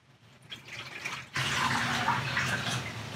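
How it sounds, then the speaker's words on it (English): A cup and a half of water is dumped into a bowl for homemade bubble mix: a light trickle at first, then a sudden, louder, steady splashing pour that continues close by until the end. "I'm going to take a cup and a half of water and dump that into the"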